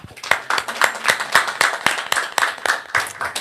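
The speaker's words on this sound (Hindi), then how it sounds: "एक अच्छी ताली के साथ प्रभु को धन्यवाद" An audience at a Christian prayer gathering claps to thank God. The claps are sharp and rhythmic, roughly four per second, loud and close, with no talking over them.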